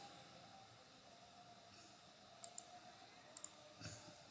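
A computer mouse clicks a few times, sharp faint taps in pairs against a quiet hiss while working in Microsoft Word.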